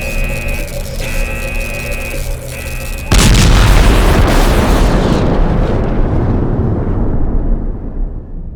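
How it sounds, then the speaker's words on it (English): An overcharged energy core explodes in the video game Last Days of Lazarus: a tonal humming whine breaks into a sudden loud blast, then a long, rumbling roar that slowly fades out. "You've destabilized the energy core. It's overcharging. Let's get the hell out of here. This thing is going to explode."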